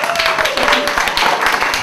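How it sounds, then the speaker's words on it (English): An audience at a stand-up comedy club applauds, a close, dense burst of rapid clapping that holds steady throughout, with a voice faintly mixed in. "keep that applause going"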